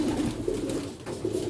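An old-breed Sialkoti rooftop pigeon coos in low, rolling, repeated phrases close by, steady over faint background noise.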